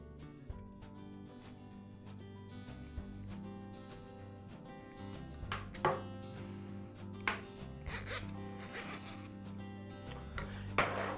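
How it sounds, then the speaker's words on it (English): A new string trimmer driveshaft is uncoiled by hand, giving a continuous close scraping and rubbing of metal cable with occasional sharper ticks and clicks. "First I'll uncoil the shaft."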